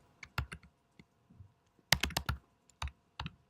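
Bursts of clacking keystrokes on a computer keyboard while typing Java code, quick clusters of taps separated by short pauses, close and clear with no talking.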